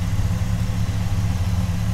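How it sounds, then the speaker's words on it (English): A 2005 Dodge Ram 1500 SRT10 Commemorative Edition's 8.3 liter V10, fitted with a K&N intake and stock exhaust, idles with a steady, deep, loud rumble throughout. "here is our beast of a V10 engine with a K&N intake"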